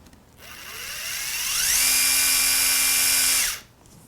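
A Festool Ti-15 hybrid impact driver on speed setting 6 revs up to a high, steady whine, holds for a couple of seconds, then cuts off abruptly.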